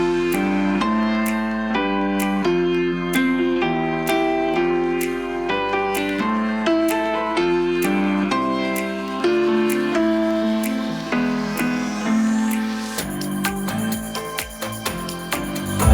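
Bounced piano and synthesizer keys playing back as a mixed track, steady rhythmic chords with bass throughout, growing brighter and denser near the end, no voices.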